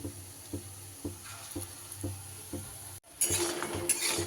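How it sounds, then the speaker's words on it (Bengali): Lentil dumplings (bori) fry in a pan until reddish, a steady hiss of oil under a regular series of soft knocks, then a brighter, louder sizzle as they are stirred. "ডালের বড়াগুলোকে খুব সুন্দর করে এইভাবে লাল লাল করে ভেজে নিতে হবে।"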